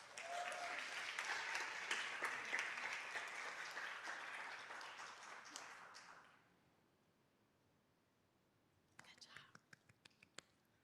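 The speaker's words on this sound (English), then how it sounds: "Let's give them one more round of applause." An audience at a school board meeting applauds student council honorees; faint, dense clapping rolls for about six seconds, fades to quiet, then a few scattered claps follow.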